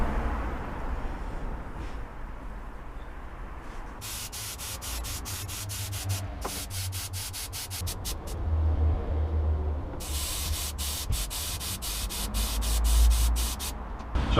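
Black satin paint goes onto a VW T5 van panel in several bursts of aerosol spray, short rapid hisses separated by quiet pauses, close by over a faint low background rumble.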